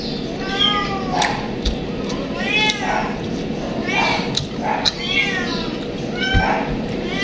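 A cat meows repeatedly, several rising and falling cries close by, with some background noise between them.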